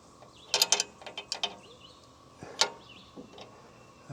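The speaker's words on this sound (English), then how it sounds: "I should be dropping the saw head." Saw head of a bandsaw sawmill being lowered, with a quiet run of ratcheting mechanical clicks and clunks in short clusters, close by with no talk.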